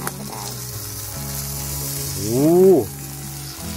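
Food sizzles steadily in an iron pan at a mountain campsite cooking wagyu beef, with a brief voice exclamation over the frying.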